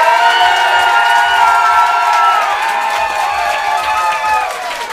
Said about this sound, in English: If you think the champion, Eli Sairs, won, clap your hands.